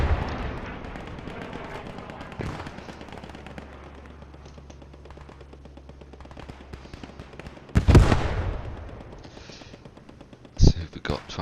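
Bombing run in a World War II online multiplayer match, with distant gunfire crackling under a steady engine drone, then two loud, sharp explosion bursts near the end, while a commentator talks throughout.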